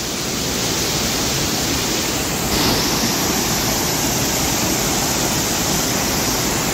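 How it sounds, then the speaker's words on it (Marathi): A waterfall roars in a hidden natural spot, a loud and constant rush of falling water that fills the whole scene. It stays steady throughout, with no voices. "ह्यो धबधबा बघा"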